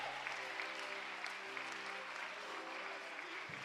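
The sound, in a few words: applause in church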